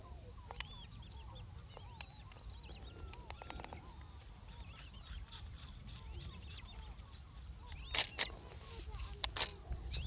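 Small ducks call repeatedly on the Werbeliner See, a lake, with honking and quacking calls scattered through the scene and a denser burst toward the end over a low background rumble.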